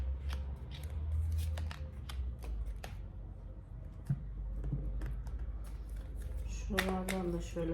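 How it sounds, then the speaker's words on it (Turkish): Tarot cards are shuffled and picked, giving soft repeated card flicks and riffling taps, quiet and close, with a voice talking faintly in the background. "kartlar seçeceğim"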